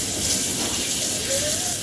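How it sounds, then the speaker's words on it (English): Tap water runs steadily into a sink during handwashing, a constant close rushing splash, with a faint voice briefly heard in the background. "Let me just wash my hands."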